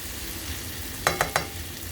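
Chicken liver fries in a pan for masala, a constant bright sizzle close by, broken by three quick metallic clinks of stirring near the middle.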